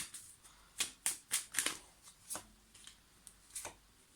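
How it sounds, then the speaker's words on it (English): Tarot card decks being shuffled, a handful of crisp riffling bursts up close, quiet, with pauses between them and a few softer taps toward the end. "The decks have already been shuffled, so I won't do it too much or overdo it."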